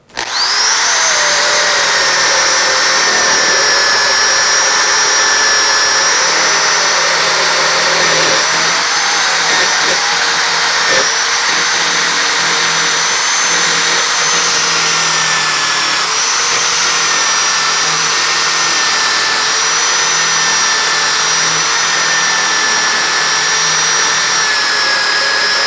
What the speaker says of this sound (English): watch how this particular end brush does the job